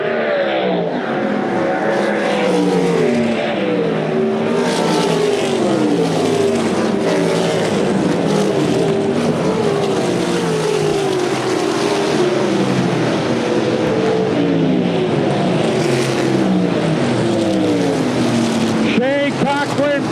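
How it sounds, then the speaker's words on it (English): USAC Silver Crown race cars at the Ted Horn 100 in DuQuoin, Illinois, screaming past in a steady loud pack, engine pitches sweeping up and down as cars pass and accelerate, with a commentator talking over the continuous racing noise. "Pulling out about 20 car leads now on the 2nd place car of Cody Swanson."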